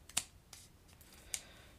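Long scissors trimming the edge of cardstock while making a greeting card: two sharp, crisp snips about a second apart, close and quiet, with no talking.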